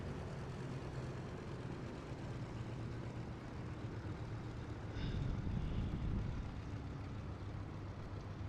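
An airliner taxiing to its parking spot in Microsoft Flight Simulator 2024, a steady engine rumble and whine lasting throughout, swelling slightly partway through.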